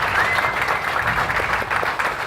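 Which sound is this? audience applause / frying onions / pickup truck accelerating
audience applause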